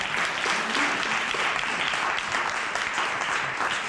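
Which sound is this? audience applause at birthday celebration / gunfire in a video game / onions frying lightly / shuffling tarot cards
audience applause at birthday celebration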